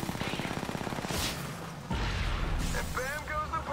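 Rapid automatic gunfire in a Call of Duty match, with bursts of shots and heavy blasts layered under game effects.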